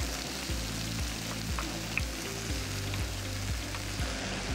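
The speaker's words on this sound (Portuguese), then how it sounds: "Eu vou aqui acrescentar mais um pouco de alho, deixar o alho ficar bem douradinho." Garlic frying until golden brown in a pan, a steady soft sizzle running continuously with a faint repeating low hum underneath, no voices.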